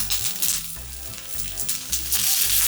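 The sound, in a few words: peppers and onions sizzling in olive oil in a pan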